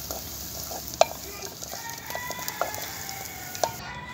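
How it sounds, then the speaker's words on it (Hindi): Onion masala frying and being stirred in a pan in a village kitchen, a continuous loud sizzle with occasional spoon clinks and scrapes against the pan. "ये देखें हमारा मसाला तैयार हो रहा है,"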